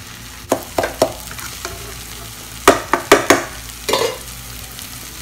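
Metal spatulas strike a hot griddle in irregular clusters of sharp clanks, close by, over a low sizzle of frying egg mutton kothu parotta being chopped.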